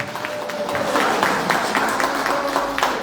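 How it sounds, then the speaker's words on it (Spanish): A forum audience in Quetzaltenango claps for a speaker who is a lawyer, with steady, dense applause throughout a short burst. "un aplauso fuerte para ella, por favor"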